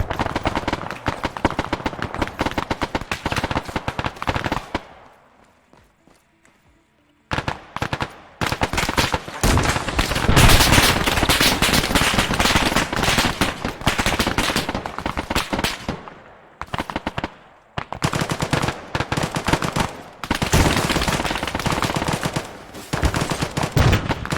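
Heavy battlefield gunfire from the game Arma 3 rattles in dense bursts and sustained automatic fire, broken by a short lull and a few gaps, with loud, overlapping shots near and far.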